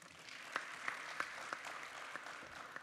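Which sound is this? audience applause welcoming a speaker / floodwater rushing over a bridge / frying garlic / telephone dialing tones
audience applause welcoming a speaker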